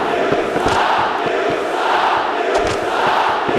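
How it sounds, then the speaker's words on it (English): An arena crowd in a wrestling video game roars in a loud, continuous wash of cheering and shouting, steady throughout with no voices standing out. "You can hear the crowd."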